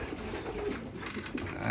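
Pigeons in a coop give soft, low cooing calls, brief and close, over a murky background.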